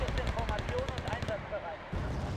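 Tank cannon fire in the Wargame: Red Dragon strategy game, with a run of sharp shots and bursts layered over busy, moderately loud battle noise.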